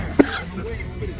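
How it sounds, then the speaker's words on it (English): A single short cough bursts out once, close and fairly loud, from a streamer playing Street Fighter III: 3rd Strike online who feels ill, followed by quiet background noise. "I went to go talk and just coughed."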